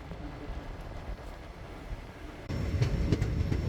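Rumbling and clattering of the Mumbai–Chennai Mail train arriving at Kosigi station in Andhra Pradesh, with a louder burst of rattling noise partway through.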